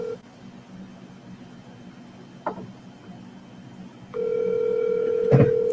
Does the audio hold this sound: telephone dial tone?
yes